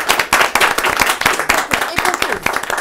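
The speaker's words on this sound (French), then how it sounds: "vous allez quand même les applaudir, les ovationner" A studio audience claps for guests on a French-language television show, dense applause with sharp individual claps, loud and close, continuing steadily throughout.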